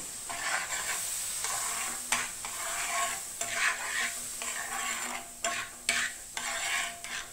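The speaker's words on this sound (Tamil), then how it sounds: "பாருங்க, வினிகர் கொதிக்க ஆரம்பிச்சிருச்சு." Vinegar mixed with baking soda boils and fizzes on an old, 32-year-old cast dosa pan over a lit gas flame, a steady close crackling sizzle with bursts of bubbling and occasional stirring scrapes, no voices.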